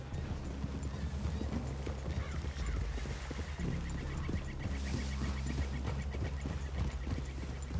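Horses clip-clopping in a PS4 video game, steady hoofbeats under a low rumble of game ambience, with an occasional whinny, faint overall.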